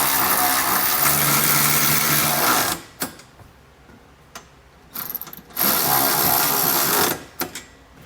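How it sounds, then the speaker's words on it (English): Ratchet fitted with a 19mm socket tightening trailer hitch bolts on a 2018 Mazda CX-5, heard as a loud, continuous clicking run that stops, then brief taps and a second long burst of rapid clicks, close up with no talking. "We're going to use a 19mm socket to snug it all down."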